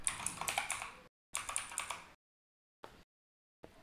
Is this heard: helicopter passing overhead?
no